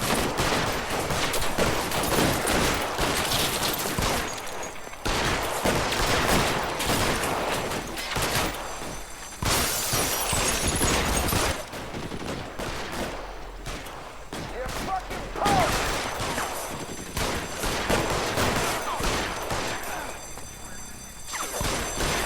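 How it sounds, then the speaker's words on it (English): Rapid bursts of gunfire from a shooting in progress in L.A. Noire, loud, dense volleys crackling on and off through the whole stretch, with a voice talking at times underneath. "And there's a shooting in progress"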